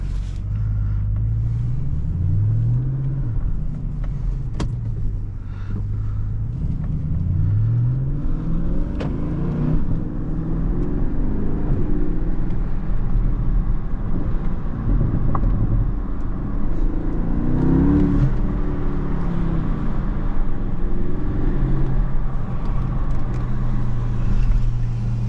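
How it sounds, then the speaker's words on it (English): A 2020 Porsche Panamera GTS with sports exhaust revs repeatedly, exhaust note rising and falling in deep swells, with a steady low rumble between blips. "Sports exhaust."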